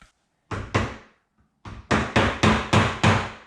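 Hammer blows knock apart a rear differential housing from a G8, Caprice, SS or Camaro: two sharp metallic taps, a pause, then five steady, evenly spaced strikes, close and loud with short ringing decays.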